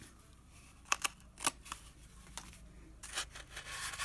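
Scissors snip around the edge of a homemade craft brayer, giving it a trim: a few sharp, close cuts spaced irregularly over a quiet background, with a rougher rustle of material near the end.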